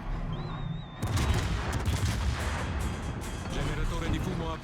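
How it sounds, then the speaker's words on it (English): Naval guns firing at an enemy ship in World of Warships, a heavy booming salvo that rumbles on as a dense roar, with someone talking over it. "I keep shooting at the Janan."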